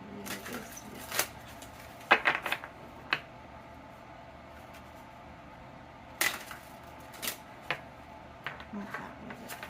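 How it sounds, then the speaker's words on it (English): Tarot cards being shuffled in quiet, irregular bursts of riffling and soft clicks, close by, with pauses in between. "That was a pretty bad shuffle."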